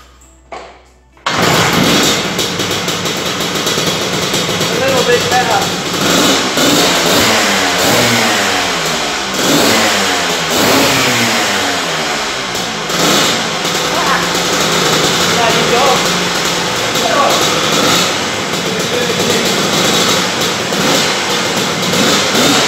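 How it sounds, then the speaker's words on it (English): A Lambretta scooter engine, being tuned with running trouble, starts after a short quiet moment, then revs up and down loudly and steadily up close, its two-stroke buzz rising and falling with throttle blips throughout. "I'm just gonna start the bike up, give it a little run so you can hear the motor"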